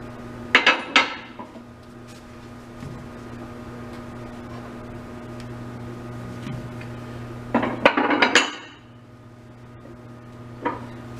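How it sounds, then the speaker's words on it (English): Metal weights are lifted off beam test hangers in a crowded lab, giving two short clusters of clanking metallic knocks separated by a long stretch of steady background hum. "I'm going to remove 20 pounds from each hanger and bring it back down to 80."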